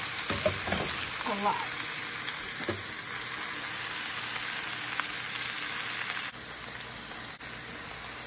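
Cabbage frying in a deep pan gives a steady, soft sizzle and crackle under occasional clatter, with a brief spoken remark mixed in.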